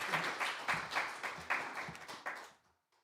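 A church congregation claps to welcome the pastor to the pulpit at a Korean worship service, a dense, fairly close burst of rhythmic applause that fades out near the end.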